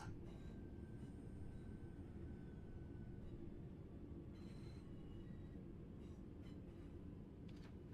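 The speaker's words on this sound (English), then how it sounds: "Let's see how quickly this train can stop without throwing the passengers through the front of it. So we'll add some braking." A passenger train slowing under braking in a train-driving video game, a steady low rumble of wheels and running gear with faint squeals and clicks above it, continuous and fairly quiet.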